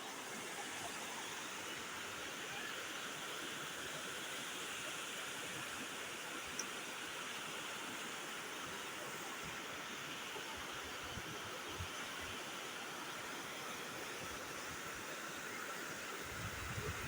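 Strong rushing river water at a dam roars continuously and evenly, a broad steady wash like churning waves, with no voices.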